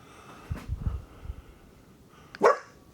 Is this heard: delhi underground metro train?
no